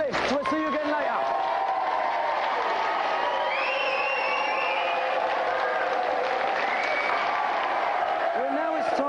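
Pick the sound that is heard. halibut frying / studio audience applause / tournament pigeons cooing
studio audience applause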